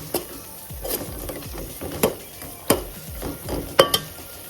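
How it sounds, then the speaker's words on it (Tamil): Chopped eggplant added to a pan of eggplant biryani and stirred, giving repeated spoon scrapes and knocks against the pot at an irregular pace with a light sizzle underneath. "வச்ச கத்திரிக்காவை நான் இதில் சேர்க்குறேன் இதை நல்லா ஒரு கலர் கலரி விடுங்க"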